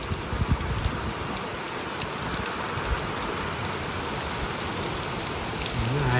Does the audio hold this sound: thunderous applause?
no